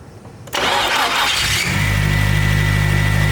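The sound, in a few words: Nissan 240SX with SR20 engine starting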